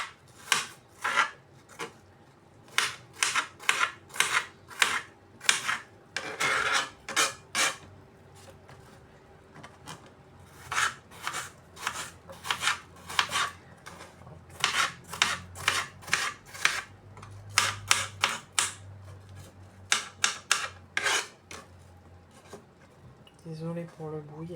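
Rapid, regular knife chops dicing an apple against a cutting board, tapping in quick bursts with short pauses, close and crisp, over faint background noise.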